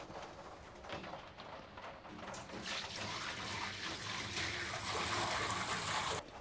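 Water poured steadily from a jug into a container to mix a degreaser, a continuous loud rushing splash that builds slightly and runs unbroken for several seconds before stopping abruptly.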